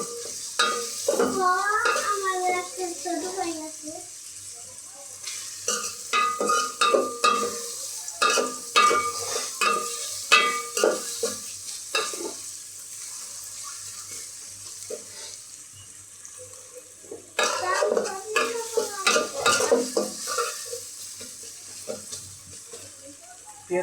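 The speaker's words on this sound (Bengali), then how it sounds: "পেঁয়াজটাকে আমি ভালো মতো ভেজে বেরেস্তা বানিয়ে নেবো।" Sliced onions fry in oil as they are cooked down into crisp beresta. A steady sizzle runs throughout under frequent close spatula stirs and scrapes, with a voice briefly audible twice.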